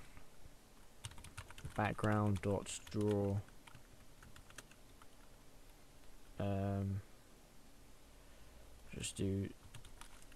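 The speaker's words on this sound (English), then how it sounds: "Oops, still can't type on this keyboard." Keys clatter on a computer keyboard during a Java game coding livestream, quick light clicks in short bursts scattered between several brief spoken phrases from a man.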